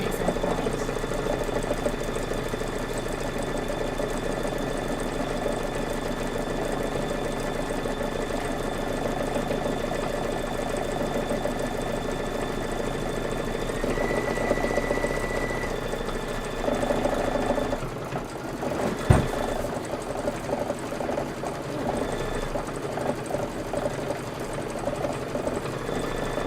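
A sewing machine stitches quilt pieces together in a steady, continuous whir, with a brief clunk and pause near the end before it runs on.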